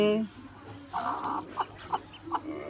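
Chickens cluck nearby in the morning at a home where ducks and chickens are kept. A few short, distinct clucks and calls come after a brief voice at the start.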